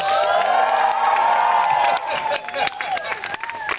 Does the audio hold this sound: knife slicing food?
no